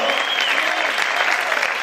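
Loud, steady applause from a church congregation during a service, dense continuous clapping filling the whole moment without a break.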